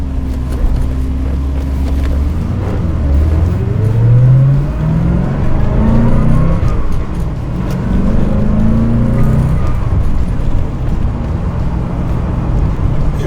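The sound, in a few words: 1990 Corvette ZR1 engine while driving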